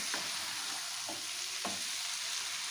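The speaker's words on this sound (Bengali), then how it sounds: "চাউমিনটা দেওয়ার পর এবার ভালো করে নাড়াচাড়া করে মিশিয়ে নেব সমস্ত উপকরণগুলোর সাথে" Boiled chow mein stir-fried with winter vegetables in a pan, with a constant sizzle under three scraping strokes of a spatula, close and unaccompanied by speech.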